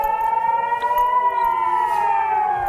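Air raid sirens wailing over Kiryat Shmona, a steady sustained tone that rises and falls slowly, heard alone without speech.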